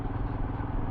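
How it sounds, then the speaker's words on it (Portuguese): A Royal Enfield Himalayan motorcycle engine idles to warm up, giving a steady, close, continuous low rumble with no talk over it. "Então eu estou rodando aqui um pouquinho antes, só para a gente ter um motor um pouco mais aquecido"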